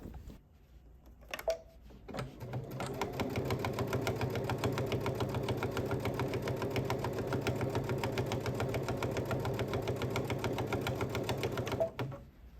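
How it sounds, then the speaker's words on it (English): A sewing machine stitches a quilted appliqué table runner in one long, steady run lasting about ten seconds, a dense mechanical whir with rapid needle rhythm, preceded by brief handling clicks and no talking. "I usually do this and then I just sew it."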